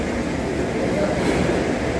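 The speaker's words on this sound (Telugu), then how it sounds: "నేను ఇప్పుడు గుంతకల్ రైల్వే స్టేషన్లో ఉన్నాను ఫ్రెండ్స్. ప్లాట్ఫారం నెంబర్ 7 పైన ఉన్నాను." Steady rumbling hum of a train at Guntakal railway station, platform 7, a continuous loud drone of rail noise with faint murmuring voices mixed in.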